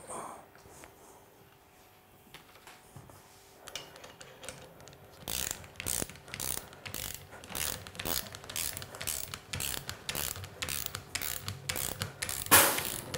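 Torque tool tightening a clamp on a Pentair Südmo single seat valve to 8 newton metres, a run of close, rapid ratcheting clicks that grows busier and ends in a sharper final click.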